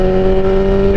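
BMW S1000RR sport motorcycle holding a steady 5,000 RPM in sixth gear at highway speed, a loud continuous engine drone with a strong even tone and wind rush throughout, no talking.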